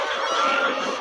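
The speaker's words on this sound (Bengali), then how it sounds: "এটা হচ্ছে সোনালী মুরগি, হাইব্রিড সোনালী জাতের মুরগি" Hybrid Sonali chickens inside a poultry shed give off a dense, continuous clucking murmur from many birds at once, steady and fairly loud throughout the short stretch, with no talk over it.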